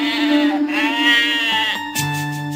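Goats bleat loudly and close up, one long wavering cry followed by shorter calls, alone without talk.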